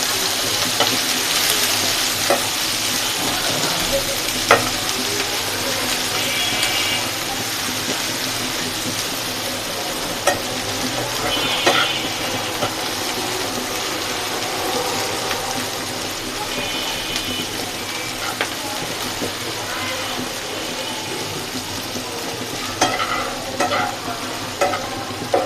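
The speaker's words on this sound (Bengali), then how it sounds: "পেঁয়াজটাকে ভালো করে ভেজে নিতে হবে।" Chopped onions fry in a pan with a steady, close hiss of sizzling oil and occasional stirring scrapes, continuing evenly throughout while a person talks over it.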